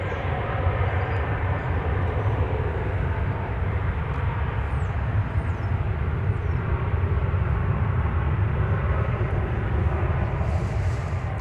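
Airliner on landing approach to runway 18 right at Dallas-Fort Worth, a steady broad engine roar filling the background throughout, loud and sustained with no talk over it.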